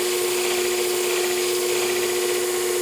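A pair of scissors sharpened on a machine, a continuous, even whirring grind with a steady hum underneath, close and unbroken for the whole stretch, without voices.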